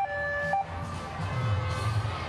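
Wailing emergency sirens at the San Francisco Pride parade, a steady loud oscillating tone rising over a busy outdoor crowd rumble throughout.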